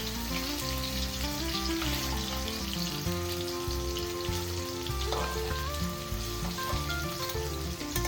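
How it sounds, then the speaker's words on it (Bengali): Pieces of fish frying in hot oil in a home kitchen, with a steady, moderate sizzle running under a continuous background music track. "অনেক দিন পর মাছ ভাজছি।"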